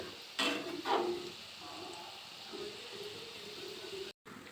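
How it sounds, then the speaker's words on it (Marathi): Balushahi dough pieces fry in hot oil until golden brown, a faint steady sizzle with a couple of brief louder bubbling bursts near the start, heard close and without talk. "तर आपण हिला सोनेरी म्हणजेच ब्राऊन कलर होपर्यंत तळून घेणार आहोत"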